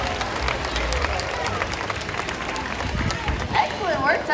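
Loud audience applause with crowd noise at an outdoor bird show at Animal Kingdom, steady clapping building throughout, with a voice speaking over it.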